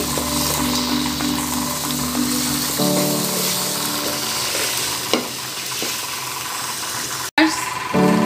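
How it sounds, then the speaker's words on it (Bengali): Onions for biryani fry in plenty of oil in a pot with a loud, continuous sizzle and crackle, broken by stirring clatter and a brief sharp knock near the end. "সেটাই আমি তেল বেশি করে দিয়ে বেরেস্তাটা করে নিচ্ছি"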